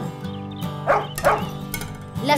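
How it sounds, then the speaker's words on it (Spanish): A cartoonish dog barks several times, short bright yips set over the instrumental backing of a Spanish-language children's song, fairly loud and close. "la esposa trajo su perro"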